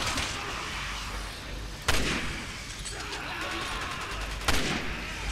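Gunfire rings out in the video game Resident Evil 6, two sharp, loud shots a few seconds apart over a constant rumbling game background.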